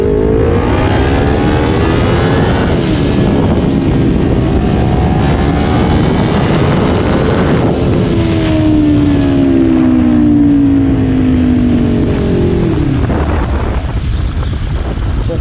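Kawasaki Ninja 400 motorcycle engine under way, a steady loud drone with rising and falling pitch as the rider shifts through gears, heavily buffeted by wind rushing past the microphone throughout.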